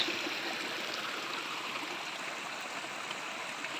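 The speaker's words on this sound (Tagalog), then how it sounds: "galing po yan dun sa source ng tubig, yung sa bukal" Water flowing from a natural spring on a farm lot near Caliraya Lake, a steady, soft rushing stream heard alone without voices, continuous and even throughout.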